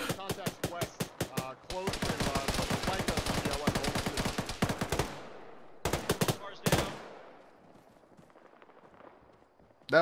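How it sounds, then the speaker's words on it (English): Loud, close machine-gun bursts and rapid rifle fire in the Arma military game, long sustained volleys cutting off abruptly, followed by a few sharp single shots and quieter echoing tail, with a voice faintly under it. "That was a gun."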